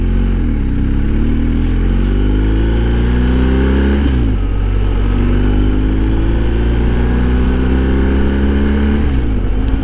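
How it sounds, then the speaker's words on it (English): A BMW R1250 GS Adventure's 1250 boxer twin runs loud and close, holding a steady drone with a couple of rises in revs, one dipping sharply around the middle and another near the end, with no talking. "This is one smooth motor, this 1250 boxer engine."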